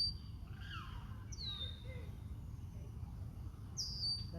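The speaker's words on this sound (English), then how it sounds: "We got the bird again." A bird in a city park sings a few short, bright whistled phrases, some sweeping downward, over a low hum of distant traffic.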